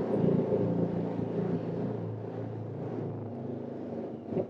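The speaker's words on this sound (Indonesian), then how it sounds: "Ini motor gede ya?" A big motorcycle engine idling nearby, a steady low rumbling drone that holds throughout with slight fluctuations.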